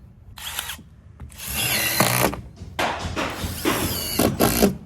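Power drill driving a screw through a metal plate during two-ply modified torch-on roof installation, several loud whirring bursts close by, starting and stopping in quick succession with no talk.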